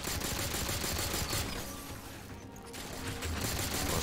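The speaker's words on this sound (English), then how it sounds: "I swear this gun didn't used to be full auto." Rapid full-auto gunfire from a weapon in the Halo 4 campaign, a dense continuous burst of shots that dips briefly in the middle and then resumes at full strength, close and loud with no talking.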